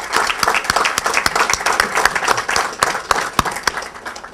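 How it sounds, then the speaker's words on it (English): Banquet audience at a wounded warrior dinner gives a steady, loud round of applause with sharp individual claps throughout, no talking over it. "so let's give them a round of applause"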